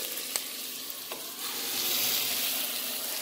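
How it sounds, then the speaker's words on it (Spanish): Chopped onion sizzles steadily in a hot frying pan as it is stirred, with a few sharp utensil clicks against the pan over a constant close frying hiss, no voices. "Después de unos 2 minutos aproximadamente de estar aquí meneándole a la cebolla, ya están, como pueden ver, un poquito transparentes."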